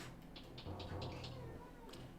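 A cat meows close by, giving a drawn-out, wavering, complaining cry in the middle, with small clicks and rustles around it and no speech.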